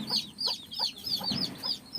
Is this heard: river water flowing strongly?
no